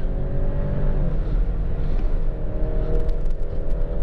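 Petrol Alfa Romeo Stelvio SUV with an eight-speed automatic accelerating in dynamic mode, a steady loud engine drone with rising harmonics heard from inside, unbroken throughout with no talk.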